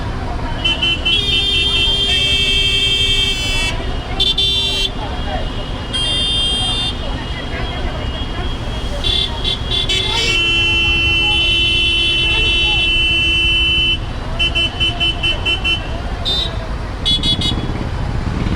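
Horns from buses and other vehicles honk repeatedly on a busy road, with long sustained blasts and short toots over a constant loud roar of engines and traffic, with voices at times.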